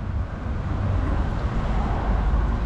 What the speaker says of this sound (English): there's a lot of noise, traffic, a lot of police and sirens and ambulances